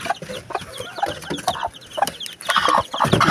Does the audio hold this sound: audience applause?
no